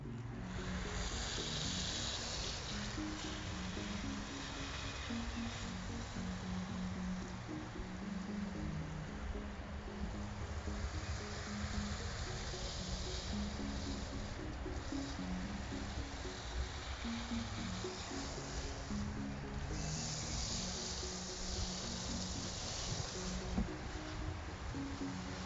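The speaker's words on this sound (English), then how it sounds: "we're gonna just water it now." A water spray soaking compost and garden soil in a vegetable garden, a steady soft hiss of water falling continuously at low level with no voices.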